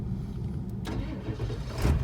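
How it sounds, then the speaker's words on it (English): A Ford 7.3 Powerstroke diesel truck engine starts by Viper remote start, cranking briefly and catching into a low rumbling idle, heard at close range. "All right, truck is running."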